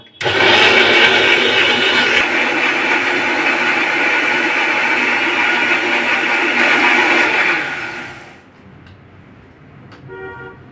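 A kitchen blender runs loud and close, grinding ingredients and water into a fine paste for about eight seconds, then cuts off, leaving quiet room sound and faint rattles.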